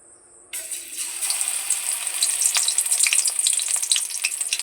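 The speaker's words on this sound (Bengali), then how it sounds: "সবগুলো ভেন্ডির চপ আমি এইভাবে ভেজে নেব" Okra fritters coated in a thick batter are frying in hot oil, a bright, steady sizzle with crackling pops that starts abruptly and then runs on loud and close, with no talk.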